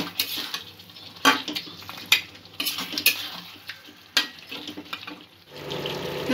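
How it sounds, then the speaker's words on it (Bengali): Chicken pieces for kadai chicken are fried down with spices in a kadai, with a steady sizzle broken by sharp spatula scrapes and clinks against the pan at irregular intervals, heard up close without voices. "মাংসটা কিছুক্ষণ আমি কষিয়ে নেব।"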